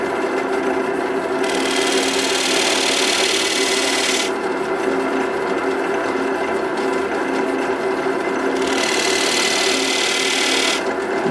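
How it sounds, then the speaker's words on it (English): A skew chisel nib scores small accent lines into a spinning walnut crotch bowl on a wood lathe, a steady close scraping hiss over the lathe's hum, with bursts of harsher cutting noise between quieter stretches. "with the nib of my skew, I'm just going to put a couple of small score lines, two small score lines"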